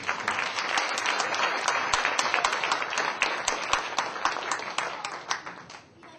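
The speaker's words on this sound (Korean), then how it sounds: "목사님 나오실 때 많은 박수 부탁드립니다." A church camp audience at an evening session claps steadily with many sharp individual hand claps, then thins and tapers off at the end as a pastor comes forward.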